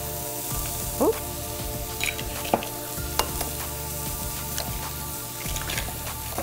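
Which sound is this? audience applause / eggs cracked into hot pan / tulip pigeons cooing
eggs cracked into hot pan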